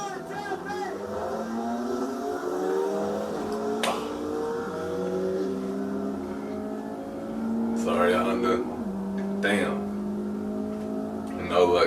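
A BMW G80 M3 accelerating hard in a race against a highly modified Honda Civic, a rising engine tone that steps through several gear shifts, heard from inside under ongoing talk, growing louder toward the end.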